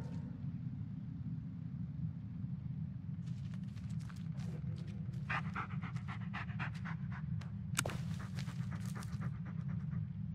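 Bullet the dog panting in Blair Witch: rapid, rhythmic breathy pants start partway through and continue over a steady low rumble, close and fairly quiet.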